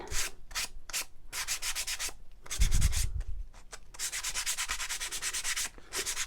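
Sanding both sides of a distressed wooden shiplap farmhouse platter, a steady rasping scrub in long close strokes broken by brief pauses, with a soft thump partway through.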